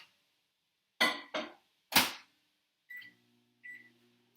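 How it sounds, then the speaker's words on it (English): A microwave oven melting a stick of butter: its door thumps shut with a few sharp knocks, two short beeps sound, then a faint low running hum starts and continues quietly. "I'm going to stick it in the microwave, and I'm going to melt the butter"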